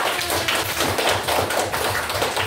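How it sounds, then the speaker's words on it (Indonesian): Children clap their hands together in a classroom, a dense, steady patter of many small hands filling the room with no talk over it. "Tepuk tangan untuk kita."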